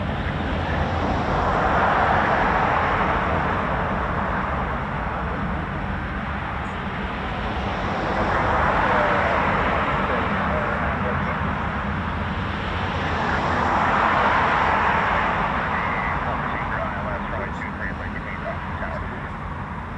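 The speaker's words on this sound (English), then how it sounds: "Here comes our KC-135 as well" A US Air Force KC-135 tanker flies past an RAF airbase, its heavy jet-engine roar loud and continuous, swelling and easing in slow waves for the whole stretch.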